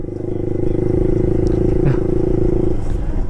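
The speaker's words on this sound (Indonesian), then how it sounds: "Itu juga motor si Adi" Motorbike engine running steadily in busy traffic, a continuous loud droning hum with some rattle, close by throughout, with faint street noise behind it.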